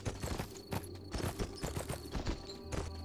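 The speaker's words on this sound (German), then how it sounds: "Freihändig das Pferd galoppieren hier." A horse gallops in the Western video game Red Dead Revolver, its hooves beating a quick, steady clip-clop rhythm that is fairly quiet and continuous throughout.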